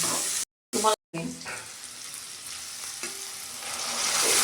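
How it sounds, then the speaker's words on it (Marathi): Hot water is poured into a pan where chutney has been frying, and the loud broadband sizzle holds steady throughout, broken near the start by two brief silent gaps. "याच्यामध्ये गरम करून घेतलेलं आपण पाणी घालणार आहे"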